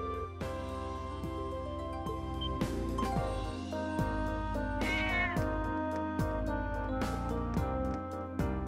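A cat in the video game Trails of Cold Steel gives a meow, set against loud, steady game music with regular beats that runs the whole way through.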